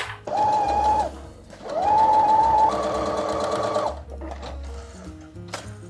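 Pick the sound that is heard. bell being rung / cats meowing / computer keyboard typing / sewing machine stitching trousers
sewing machine stitching trousers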